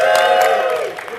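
Crowd at a conference session cheering and shouting, a brief burst of whoops and voices with a tonal whistle-like shout, loud and close throughout.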